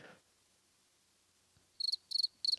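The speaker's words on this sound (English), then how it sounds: "I thought it wasn't even gonna get crickets." Crickets chirp in three short, bright bursts after nearly two seconds of near silence. The trilling pulses sit close to the microphone and stand alone, with no voices.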